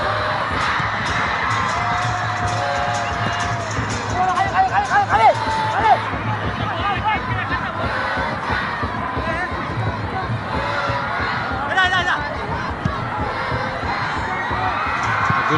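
A loud Bhutanese home crowd at a football World Cup qualifier against Sri Lanka roars and cheers continuously, with shrill whoops and youthful shouts rising in bursts over the steady stadium din.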